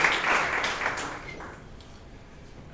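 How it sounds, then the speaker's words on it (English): A round of applause from the audience at a startup demo day, strongest at the start and then thinning and fading over a couple of seconds, with no speech on top. "please give a round of applause"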